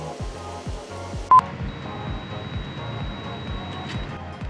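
A short single electronic beep from a G&G G2 airsoft gun after the trigger is held in semi-auto position, sharp and brief above a quiet rhythmic background thumping, with no talk.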